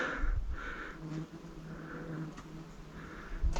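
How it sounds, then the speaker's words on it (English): Bees buzzing close by on a dusty hiking trail, a wavering drone that swells and fades in several passes, with rustling and faint movement noise underneath. "And the bees are just swarming me today."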